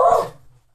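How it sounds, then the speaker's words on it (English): A dog lets out a single loud, close bark that cuts off quickly into near silence. "That's my dog."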